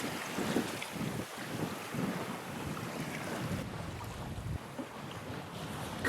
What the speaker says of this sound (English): Amazing, we finally managed to get some wind